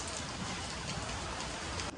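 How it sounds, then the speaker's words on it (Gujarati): Steady rain falls in a dense, even hiss, with drops pattering continuously on surfaces nearby, loud and unbroken for the whole moment with no voices. "વરસાદ હજી ચાલુ જ છે"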